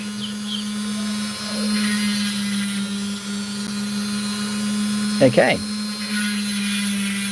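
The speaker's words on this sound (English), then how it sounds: "I suppose I had better refer to this as a rotary tool," Rotary tool grinding an opal gives a steady, high-pitched whine that holds throughout, close and moderately loud, with a brief scraping bump near the middle and a short spoken word over it.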